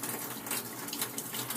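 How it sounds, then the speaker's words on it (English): Tap water runs steadily as greens are loosely rinsed in a bowl to wash off bits of dirt and mud, a continuous close splashing hiss with no talking. "We'll take it out of the hydrogen peroxide water and we'll loosely rinse some of these particles off of there."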